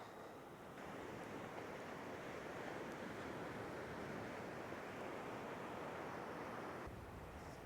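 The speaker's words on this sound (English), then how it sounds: "that wind's bad." Strong wind buffets across a beach during a fishing session, a dense, steady roar of gusts and surf noise with no break, faint overall in level.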